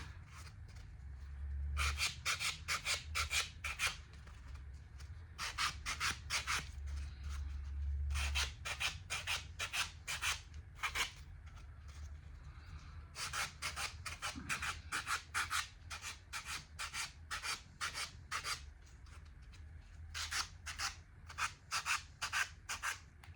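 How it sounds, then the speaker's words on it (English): Hand filing to round off a shape on a nautical decor piece: bursts of quick rasping strokes, each run a rapid string of scrapes, repeated with short pauses, close and steady over a low background hum. "I just have to do a lot of filing, that's for sure."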